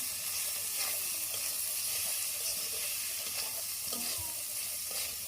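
Boiled dal goes into a hot pan and sizzles steadily, a continuous close frying hiss with faint stirring scrapes, even in level and unbroken throughout.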